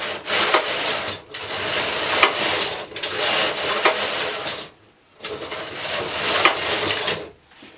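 A knitting machine runs its carriage back and forth over four rows, making loud rasping sweeps with short pauses between passes.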